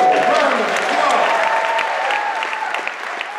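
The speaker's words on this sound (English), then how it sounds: "Let's give him a wonderful round of applause." A theatre audience at a comedy show breaks into loud, sustained applause to welcome a comedian, dense clapping filling the room steadily for several seconds before easing slightly at the end.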